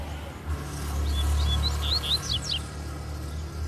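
A free-flying double-collared seedeater (coleiro) sings a short series of high, quick chirps and whistled notes over a steady low hum and faint background noise.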